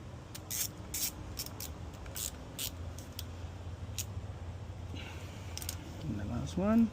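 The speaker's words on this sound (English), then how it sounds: "That's why it's also good to clean with the spray before you close it." A cleaning spray is sprayed onto the wire connections of an e-bike controller. Several short, close hissing bursts come at an uneven rhythm, followed by a few small squeaks and creaks at the end.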